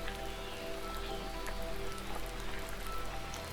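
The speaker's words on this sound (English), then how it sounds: "It's raining like crazy." Heavy rain pours steadily at Maya temple ruins, a dense hiss of drops drumming on surfaces close by, continuous and loud with no voices.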